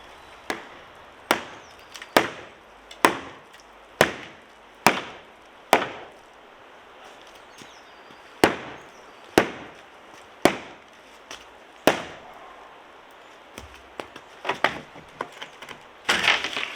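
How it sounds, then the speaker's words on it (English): A plywood bottom is pried and hammered off an old trailer: a dozen or so sharp, loud wooden cracks and knocks at a steady, roughly one-per-second pace, then a looser flurry of smaller clatters near the end. "Next thing to do is to take off the plywood bottom and have a wee look at what we're"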